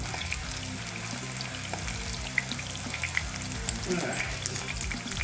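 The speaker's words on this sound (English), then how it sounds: "Washing off the plate, guys." A plate is rinsed under a running tap in a home kitchen, a steady broadband rush of water with small clinks. A voice says a couple of words over it.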